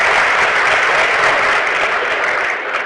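Sustained, dense applause from a large political audience for President Bassirou Diomaye Faye, loud and steady throughout, easing slightly at the very end.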